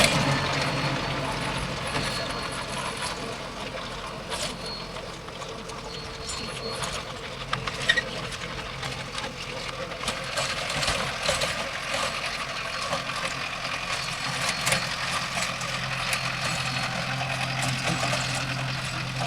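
A Mahindra 605 S tractor runs steadily with a rotavator in a field, its engine droning and the implement clattering continuously at moderate distance, with no talk.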